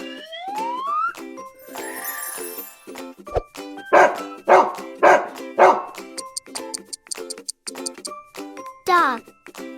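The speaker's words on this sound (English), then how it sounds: "Dog." Dog barking for a children's farm-animal lesson: a run of four evenly spaced, loud barks in the middle, set among tinkling, chiming children's music and a few cartoonish effects.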